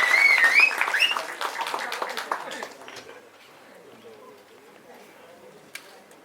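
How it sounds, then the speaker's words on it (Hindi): Audience at a film trailer launch claps and cheers loudly for the first few seconds, then the applause fades into quieter crowd murmur. "give it up for them"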